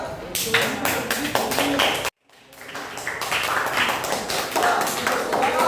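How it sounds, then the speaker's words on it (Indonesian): A classroom group claps together in brisk, close bursts, cut by a brief silent gap before the clapping resumes, with some voices mixed in. "tepuk tangan buat kelompok sana"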